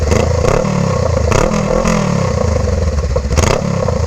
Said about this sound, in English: Let's see what it sounds like when you rev the engine.